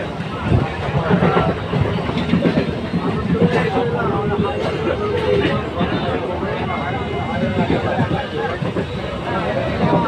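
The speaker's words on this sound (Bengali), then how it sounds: "চারিদিকে শুধু ট্রেনেরই শব্দ, আর কোনো শব্দ নেই" A passenger train runs along the rails toward Mashagram, a continuous loud rumble and rattle with wind buffeting, heard from inside among a crowded babble of passengers' voices.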